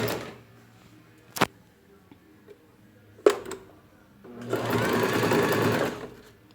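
A sewing machine stitches two fabric pieces of a small hand-held fan, running in a steady buzzing burst near the end after a few short clicks and pauses, with a backstitch to finish the seam; no voices.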